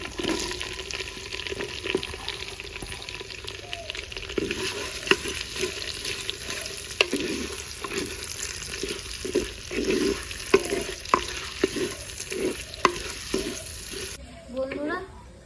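Onion fries with cinnamon, cumin, whole peppercorns, cardamom and cloves in a pan, a continuous sizzle punctuated by repeated spatula scrapes and taps in an irregular rhythm, close and moderately loud, with no voices.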